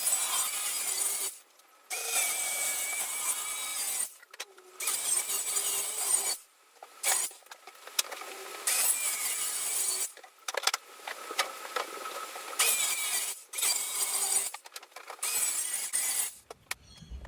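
Plywood bulkheads for a catamaran hull being sawn by hand in bursts of harsh, raspy strokes, with short pauses between runs, fairly close and moderately loud.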